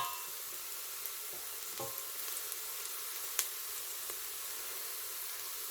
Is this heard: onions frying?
yes